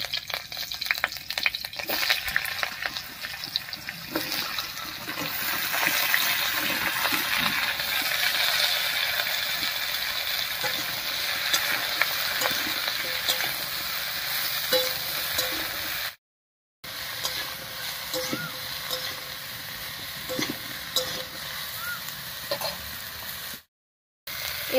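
Cut vegetables hit hot oil tempered with panch phoron and slit green chilies, a loud, dense, steady sizzle and crackle lasting throughout, close up, broken by two brief silent gaps near the end, with no voices.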